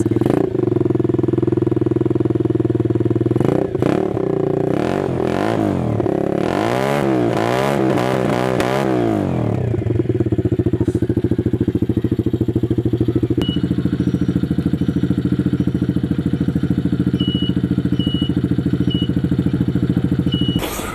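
A quad bike ATV engine idles with a steady throb, then surges through several sharp throttle revs in quick succession before settling back to a loud, close, rumbling idle.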